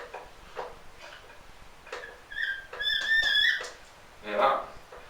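A cleaning pull-through drawn through a PCP air rifle barrel gives several high, thin squeaks in short bursts, close by, with someone talking quietly around them.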